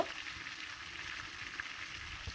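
Fish heads fry in oil with a faint, even sizzle and soft crackle heard close and alone, without talking.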